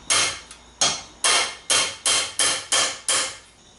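Eight sharp metallic hammer strikes drive a punch through a metal can, landing in a steady, slightly quickening rhythm, loud and close, each ringing briefly.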